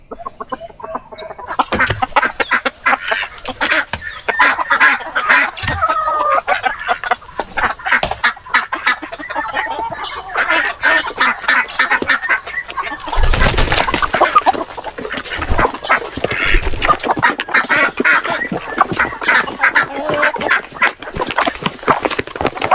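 Hungry Pekin ducks and chickens calling on a farm, a busy, close chorus of clucks, quacks and squawks running continuously, with a louder burst partway through and no talk.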